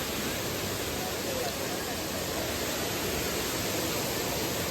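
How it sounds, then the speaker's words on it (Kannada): Steady broadband rush of a waterfall near Sakleshpur, dense and constant throughout, close and fairly loud with no talk over it. "ವಾಟರ್ ಫಾಲ್ಸ್ ತುಂಬ ಚೆನ್ನಾಗಿದೆ"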